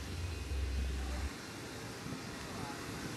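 Boeing C-17A Globemaster III transport aircraft landing at SIM airport, a loud low rumble for the first second or so, then a steady broad jet roar that fills the rest.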